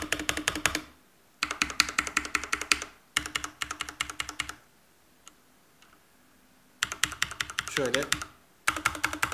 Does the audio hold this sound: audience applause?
no